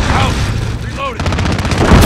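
Gunfire in Call of Duty: Modern Warfare (2019) rattles as a steady, loud automatic burst of rapid rhythmic shots, with a voice briefly audible over the dense battle din.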